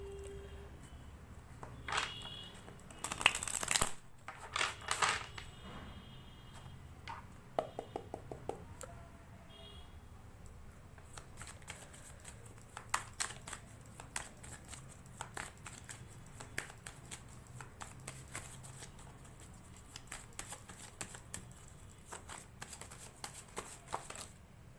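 Tarot cards are shuffled by hand in soft, rapid riffling bursts and quiet flicking clicks, faint and close, carrying on for a long stretch with brief louder flurries near the start.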